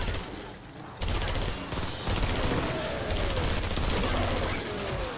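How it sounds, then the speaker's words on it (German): Gunfire in the video game Fortnite (Save the World mode), a dense, continuous fusillade of rapid shots running through the whole stretch, loud and busy, growing fuller after the first second. "Irgendwas schießt doch hier wieder."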